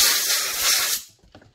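A short, loud hissing blast of compressed air blows out a carbon fiber holster, lasting about a second before cutting off, followed by faint handling sounds.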